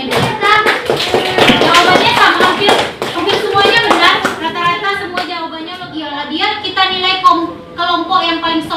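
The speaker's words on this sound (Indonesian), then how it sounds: "Beri aplaus untuk anak-anak semuanya dulu." Children in a classroom clap together in a dense, loud burst of applause that rises and then thins into scattered claps, with children's voices chattering through it.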